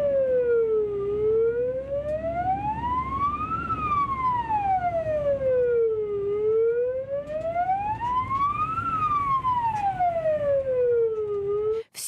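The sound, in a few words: ambulance siren with police patrol following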